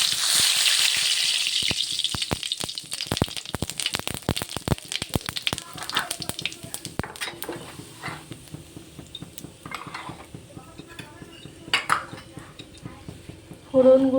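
Dried red chilies and whole cumin seeds dropped into hot white oil in a kadai, crackling and sizzling at close range with sharp spitting pops that gradually thin out, while a person talks over the tempering.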